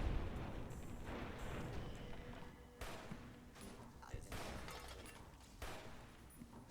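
Assorted in-game gunfire from Fallout New Vegas, with sharp shot bursts around the middle and end over a dense, busy game soundscape, fairly loud and continuous throughout.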